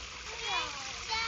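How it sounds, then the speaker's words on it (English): Water is poured into a planting hole for hydrangeas in a garden during a heatwave, a brief, steady, close splashing gush that swells and eases. "Alright, I added the water."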